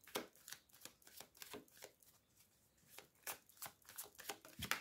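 A playing card being taken from a deck, heard as a quick series of soft, close card flicks and riffles repeating irregularly, quiet and without talk.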